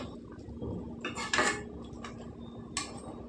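A metal spoon scrapes and clinks against a pot while cooked dal is stirred for podi pappu, giving a few distinct close taps and scrapes over a low steady hum.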